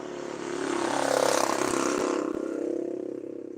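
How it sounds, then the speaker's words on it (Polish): A motorcycle with no muffler passes by outside a workshop, its loud, raw engine roar swelling and then fading over a few seconds. "Znowu motor jedzie bez tłumika."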